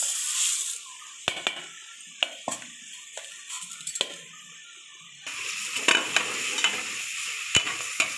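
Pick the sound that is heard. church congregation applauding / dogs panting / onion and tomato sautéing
onion and tomato sautéing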